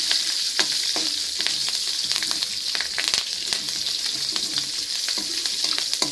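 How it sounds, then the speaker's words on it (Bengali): Green chili sizzling in a hot pan: continuous loud hiss of frying with repeated clicks and scrapes of a spatula stirring, close and uninterrupted by voices. "কাঁচা লঙ্কাটা দিয়ে দিলাম, নেড়ে চেড়ে"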